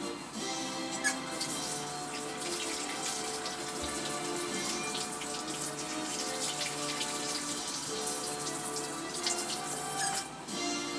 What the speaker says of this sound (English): let me wash the cap real quick